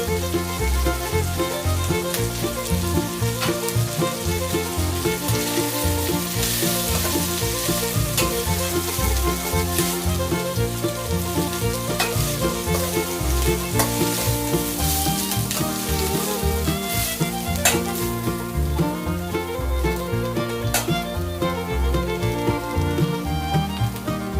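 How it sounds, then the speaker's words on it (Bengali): Banana stem (thor) being stir-fried in a pan for a Bengali prawn ghonto, with a steady, loud sizzle and frying crackle throughout and the repeated scrape of stirring, and no voices. "এবার থোরটা দিয়ে ভালো করে নাড়াচাড়া করে নিচ্ছি।"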